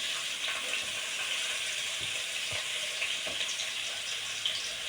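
Two large chopped onions and a green chilli sautéing in oil for prawn thokku, a steady close sizzle with faint spoon scrapes and taps against the pan, no voices.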